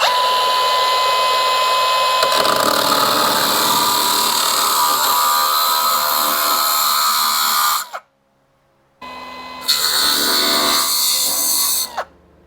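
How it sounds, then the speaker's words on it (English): An angle grinder with a flat disc grinds deep rust off a Jeep TJ, a loud sustained high-pitched whine that cuts out briefly, then resumes before stopping again. "Maybe we'll grind that face off too and clean up that rust."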